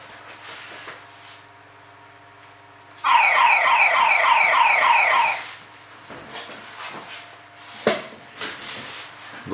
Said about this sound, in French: ça crée une alarme quand j'ai voulu toucher au pot de fleurs